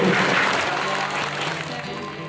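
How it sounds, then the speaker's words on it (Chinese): An audience applauds at an art exhibition of the Asia Art Alliance in Taoyuan, a dense steady burst of clapping from many hands, loud and fairly near, fading slightly toward the end. "真的是值得大家再一次的鼓掌给他们"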